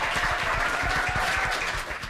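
Brief audience applause during a live internet talk show, a moderately quiet burst of scattered clapping from a studio crowd that fades slightly toward the end.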